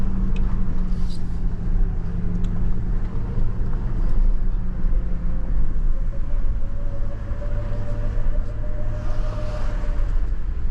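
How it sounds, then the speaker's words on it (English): A Toyota Land Cruiser on an overlanding trip off-road, its engine a steady low rumble heard from inside the cabin, with a rising drone midway and faint rattles over the continuous noise. "I'll show you guys a little bit of what this car can do."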